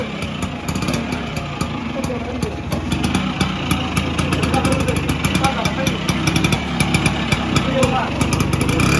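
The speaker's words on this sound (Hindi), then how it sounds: "इधर स्कूटर चलाने जा रहे" An old LML Vespa scooter engine idles with a steady, rattly putter close by, running continuously while people talk nearby.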